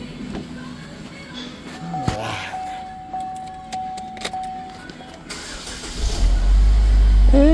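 A GM 2.4L engine is cranked and fires on its first start attempt. The car starts near the end, rising to a loud, steady running rumble after a few seconds of quieter clicks and clatter.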